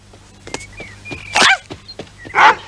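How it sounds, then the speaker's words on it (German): A big dog gives two loud, deep barks close by, about a second apart, with scattered knocks and faint background noise in between. "Was zum Teufel war das? War das unser Hund?"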